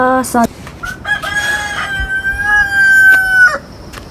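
A rooster crows loudly and close by, one long drawn-out call after a few short clucks, with a faint voice at the start.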